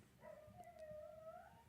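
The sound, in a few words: dog barking and howling in the background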